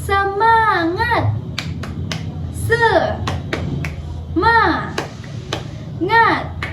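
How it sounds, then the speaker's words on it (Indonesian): A class of children does a rhythmic spirit clap (tepuk semangat): short, sharp clap bursts in a set pattern, with a teacher's voice and chanting children in between. "1, 2, 3. Tepuk semangat"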